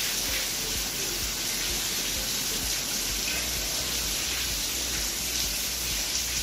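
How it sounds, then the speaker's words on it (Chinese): Heavy rainstorm with water leaking into an apartment in Melbourne: a steady, dense wash of rain and running water fills the whole stretch, loud and unbroken, with no voices. "从画面中确实看出了这个外面下暴雨，家里下大雨的这个心酸啊"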